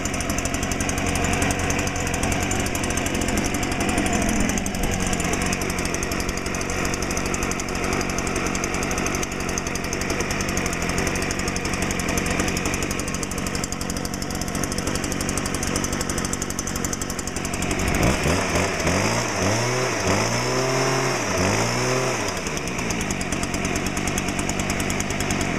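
A 2009 Stihl BR 420 backpack blower with a 57.5cc two-stroke engine runs steadily and loudly throughout, with a constant high whine, and its pitch wavers briefly near the end.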